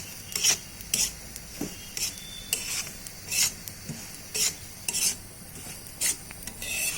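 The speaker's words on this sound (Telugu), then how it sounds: "దీంట్లో దోరగా వేపుకోవాలి." Wheat flour roasting in ghee in a pan for wheat biscuits, with intermittent scraping and stirring strokes of a utensil against the pan over a faint background, no talk.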